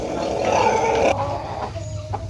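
Fancy farm chickens, a rooster with hens, give a few brief clucks close by, short and moderately loud, with a quieter pause afterward.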